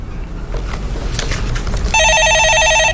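A telephone rings loudly in a Korean stock-market call-in broadcast studio, a steady electronic warble that starts after a stretch of background noise and continues without any talk over it.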